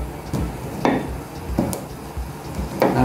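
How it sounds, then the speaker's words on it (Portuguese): Dull, thudding knocks repeat at an uneven pace, about one every second, as cloves are pounded into powder in a mortar, with no talking. "o único que precisa de ser batido é o cravo"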